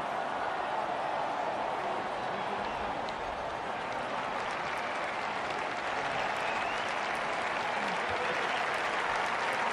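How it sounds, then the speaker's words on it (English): Steady, dense crowd cheer and applause from a cricket video game after a hat-trick, a continuous roar filling the whole stretch at even loudness with no clear pauses. "A hat-trick and the crowd goes into a frenzy"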